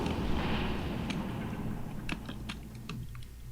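Clicking keys on a computer keyboard, a handful of sharp, irregular taps close by over a rumbling, noisy background, with no speech.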